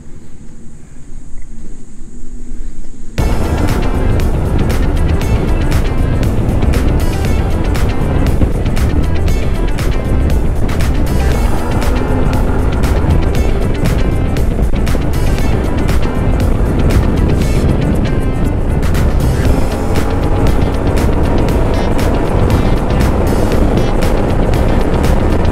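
A Yamaha T-Max maxi scooter ride with loud, steady engine and wind roar starting abruptly after a short quiet moment and running continuously.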